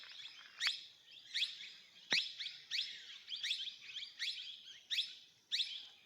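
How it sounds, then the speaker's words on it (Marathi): Small birds chirp in a forest along a Narmada parikrama walking trail, giving about eight bright, repeated bursts of tweets at a steady rhythm. The calls are fairly close and clear over quiet background, with no talking. "हा पाखरांचा चिवचिवाट"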